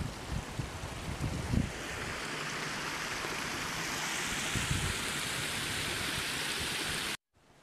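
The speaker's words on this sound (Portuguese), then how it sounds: "Água escorrendo aqui, ó." A creek swollen by heavy overnight rain near Poeiras in rural Brazil rushes past in a loud, continuous roar of flowing water with no voices, cutting off abruptly just before the end.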